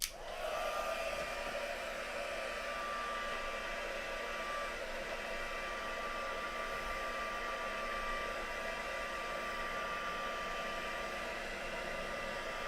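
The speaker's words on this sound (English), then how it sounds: "So use your heat tool now." A heat tool blows hot air to dry craft work with a steady, close whoosh and a thin whine, running evenly without a break from start to finish.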